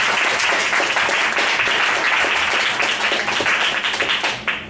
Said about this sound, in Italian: se gli volete fare anche un applauso.